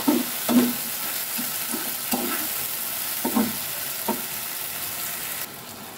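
Chicken pieces frying with chopped garlic in a pan, a soft steady sizzle broken by several distinct scraping stirs of a spatula, close by and with no talking.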